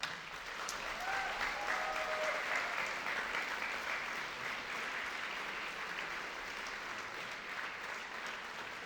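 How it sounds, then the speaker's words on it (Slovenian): Audience applauds in a hall after a children's folk dance group performance in Maribor. A dense, steady clapping crowd, sustained for several seconds with no speech. "Vsi nastopajoči se vam zahvaljujejo za tak bučen aplavz"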